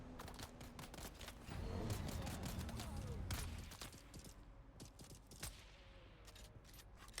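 Rapid bursts of gunfire hit a buggy in the Dune Awakening survival game, crackling volleys mixed with impact clatter and vehicle rumble, fairly loud and dense at first, then thinning into scattered shots.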